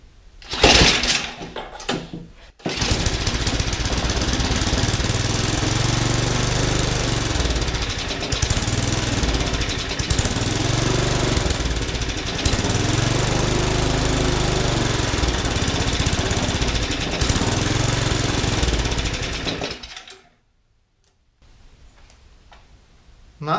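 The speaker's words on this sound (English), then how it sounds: "So this is going to be first start." Yard Machines snowblower engine starting for the first time on full choke: after a few pulls it catches and runs loud and steady, with a rhythmic chugging idle for about twenty seconds, then cuts out abruptly.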